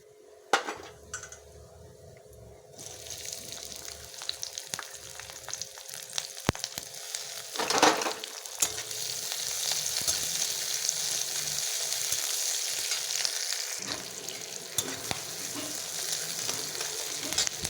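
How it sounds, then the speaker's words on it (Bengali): Mixed vegetables and nigella seeds frying in a pan, with a loud continuous sizzle that swells after a quieter start, punctuated by sharp clinks of a utensil against the pan. "সব সবজিগুলো ভাজা হয়ে গেছে কালো জিরা"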